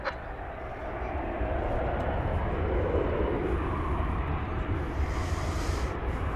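A jet airliner rumbles at DFW Airport during takeoff on runway 18 left, a steady broad roar holding at near-constant loudness throughout, with faint radio chatter in the background.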